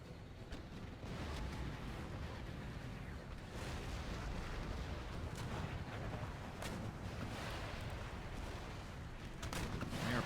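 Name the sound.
artillery and gunfire in the video game Empire Total War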